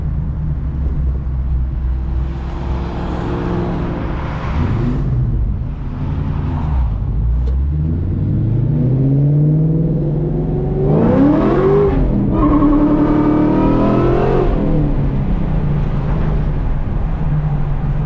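A 500 hp Ford Mustang Terminator Cobra engine pulls loudly through several gears from inside the car, with rising revs, pauses at each shift, and a steady drone throughout.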